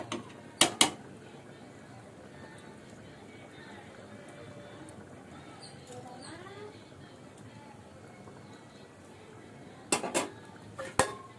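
Rice stirred around a cooking pot for a coconut pulao, with a few sharp metallic clatters near the start and again near the end, a lid set in place, over low steady background noise and faint voices.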